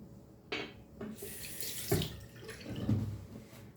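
Water runs from a tap while soap is rinsed off, a close, soft splashing stream broken by a few brief surges and spatters.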